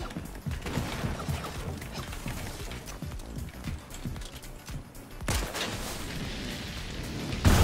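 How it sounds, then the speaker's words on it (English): A gas can explodes in Fortnite Chapter 4, heard as a sudden booming burst over a steady wash of game noise, followed moments later by another sharp crash. No one speaks. "Little gas can explosion."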